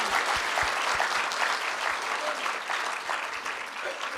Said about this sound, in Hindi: इसलिए नारी जाति के लिए ताली बजाकर अभिनंदन कीजिए।